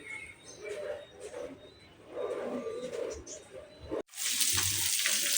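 Cleaned puti fish frying in a pan, a continuous close sizzle with some bubbling. Partway through it cuts to a brighter, louder hiss, and faint bird coos sound in the background.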